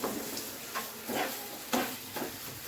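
Bora fritters frying lightly in oil in a wok give a soft, steady sizzle, broken every second or so by brief stirring scrapes and bursts, close and fairly quiet with no talking.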